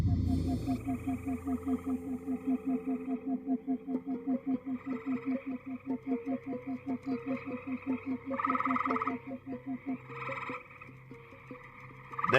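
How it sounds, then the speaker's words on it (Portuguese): Male green frogs croak at a pond's edge in a steady, rapid series of close, loud pulses that runs for several seconds, then gives way to a few louder, scattered calls. "Devem se unir de 15 a 20 machos em torno do lago, coachando e esperando desesperadamente que a fêmea atenda ao chamado."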